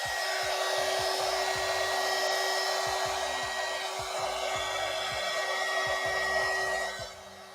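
Hair dryer blowing steadily on a watercolor painting, a loud constant whooshing hum with a steady motor tone that fades slightly at the end.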